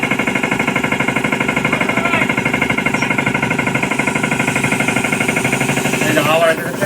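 An electric blower machine running nonstop, a loud, steady droning whir with a fast rattling pulse, while people talk over it.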